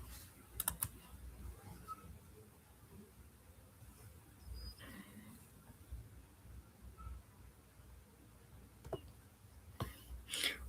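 A command typed on a computer keyboard: sparse, quiet key taps scattered across a hushed room, a few clustered near the start and end, close and without speech.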